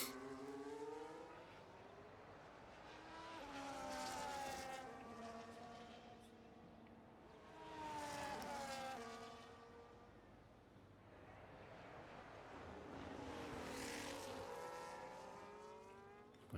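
Race cars from a video game racing league at Monaco rev and shift in repeated rising engine sweeps, three surges of high-pitched whine climbing through the gears, steady and fairly faint with no talk.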